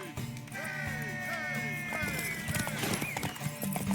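Horse hooves clip-clop steadily in the Witcher 3 video game, layered under whinnies, bleating and other busy game sounds.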